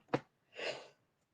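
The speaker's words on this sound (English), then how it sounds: "excuse me, sneeze." A single sneeze indoors at a crafting desk, a short sharp burst followed after a brief pause by a louder, breathy, spread-out release, then quiet.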